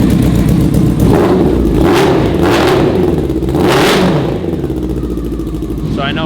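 A Yamaha Raptor 700 quad with a swapped-in sport motorcycle engine, about 130 horsepower, revs hard in loud close bursts, with the pitch climbing and dropping several times before settling into a rough idle.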